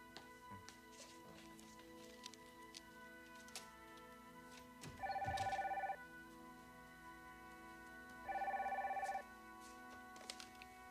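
Two bursts of an old-fashioned telephone bell ringing indoors in a 1990 soap-opera scene, each about a second long and spaced a few seconds apart against a quiet background.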